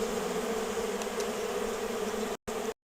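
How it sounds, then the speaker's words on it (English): Honeybees in an opened hive just after smoke is puffed in, a dense, steady droning buzz close by, holding level before cutting off briefly near the end. "Notice the way the bees change sound."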